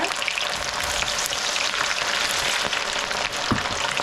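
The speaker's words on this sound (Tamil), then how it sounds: "இப்போ எண்ணெய் நல்லா சூடாகிட்டு நான் இந்த காலிஃப்ளவரை அதுக்குள்ளே போடுறேன்" Cauliflower florets deep-frying in hot oil over a high flame, a loud, dense, steady sizzle that crackles continuously throughout with a few sharper pops, no talking.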